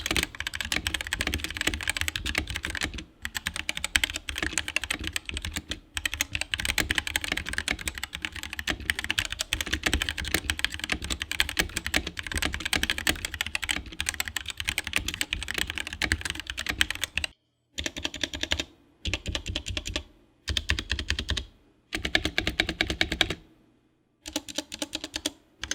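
Rapid, steady typing on a Womier K66 mechanical keyboard fitted with Tangerine switches, dense clacking keystrokes close up and continuous, breaking into short bursts with brief pauses near the end.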